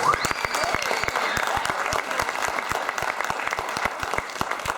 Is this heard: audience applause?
yes